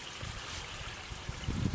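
Water trickling and splashing from a small waterfall into a backyard garden pond, a soft steady babble with a few louder gurgles near the end, heard up close.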